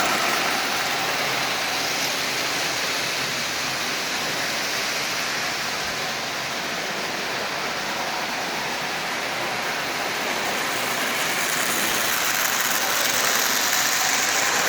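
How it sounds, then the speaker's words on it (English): A Lionel 8042 model train locomotive, unused for years, runs at half power pulling sixteen Lionel cars, making a steady, dense motor whir and track rumble with no pauses. "This locomotive is running quite well."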